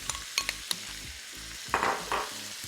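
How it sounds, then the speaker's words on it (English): Herb butter sizzling in a pan beside lamb chops, a close crackling fry broken by a few light metallic clinks and two louder bursts of spitting sizzle toward the end, with no voices. "I'm going to add in my herby butter."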